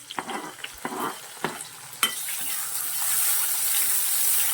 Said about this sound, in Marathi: कांदा घालायचा आहे मस्त असा परतून घ्यायचा आहे आपण टमॅटो घालायचा आहे